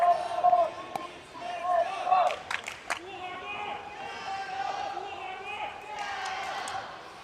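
A crowd at a pickleball match cheers and shouts in a busy, rolling swell, with voices talking over the noise and a few sharp knocks and slaps breaking through.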